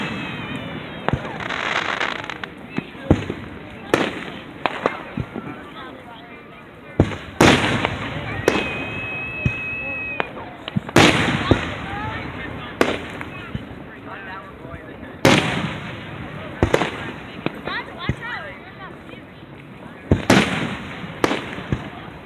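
Fireworks burst close by at a fireworks show in Flint, Michigan, loud sharp booms and crackling pops at irregular intervals, with people talking quietly between the blasts.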